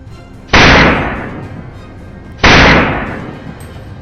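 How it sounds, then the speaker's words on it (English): Two loud, close gunshots ring out across a field during a wild boar hunt, each a sharp crack with a fading tail, about two seconds apart. "I got in a position, aimed, and pulled the trigger"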